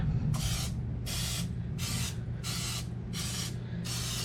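Six regular hissing bursts of oil spray from an aerosol can into silicone muffin liners, close and loud, evenly spaced about every half second with a low steady hum underneath.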